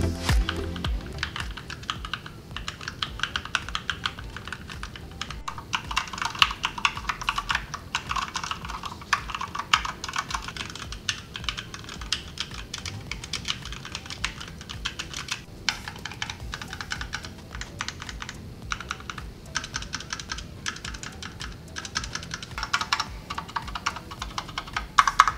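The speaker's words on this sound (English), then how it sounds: "Let's test the click sound compared to other keyboards." Fingers type on a Cougar Puri Mini, a compact 60% DSA mechanical gaming keyboard with Gateron switches, producing a continuous run of close, crisp key clicks in an irregular rhythm, heard alone.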